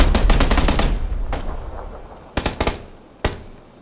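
Automatic gunfire in a PUBG battle: a rapid burst of close shots that trails off, then scattered single cracks and short bursts echoing with a fading tail.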